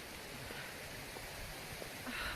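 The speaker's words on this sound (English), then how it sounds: "it's starting to rain." Light rain begins falling outdoors at a Polish ski resort car park, a faint steady patter with soft scattered drops and no talking.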